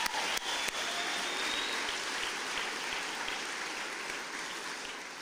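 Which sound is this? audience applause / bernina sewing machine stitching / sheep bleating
audience applause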